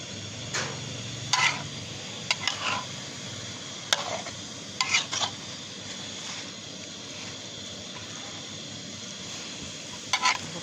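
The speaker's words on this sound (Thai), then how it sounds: "ผัดไปเรื่อยๆเรื่อยๆจนกว่าน้ำมันจะแห้ง" Daikon radish stir-fried in oil in a pan: a faint, steady sizzle broken by sharp, intermittent scrapes and clicks of the utensil against the pan.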